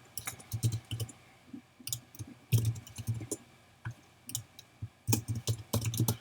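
Fingers type names on a computer keyboard in quick irregular bursts of close, crisp key clicks with short pauses between them.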